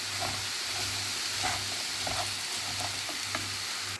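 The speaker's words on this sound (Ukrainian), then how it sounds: "І продовжуємо смажити" Apples with cinnamon sizzle and crackle steadily as they caramelize in a hot pan, with a low pulsing hum beneath and occasional scraping stirs.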